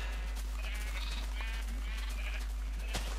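Sheep bleat on a farm in a video game, several repeated bleats overlapping at a moderate distance above a steady low background hum, with no clear talk.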